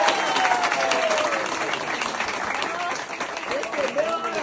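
A church congregation claps loudly and continuously, a dense sustained wash of applause with voices audible over it.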